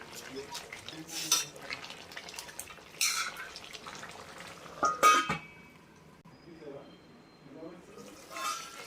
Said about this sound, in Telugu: ఇప్పుడు మొత్తం ఒకసారి కలుపుకొని మళ్ళీ మూత పెట్టుకొని 2 నిమిషాలు ఉడకనివ్వాలి